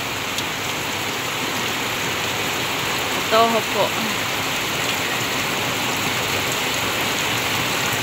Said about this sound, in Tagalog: Gawa po ng kalakas po naman ng ulan